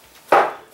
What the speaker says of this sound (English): We can cut them up.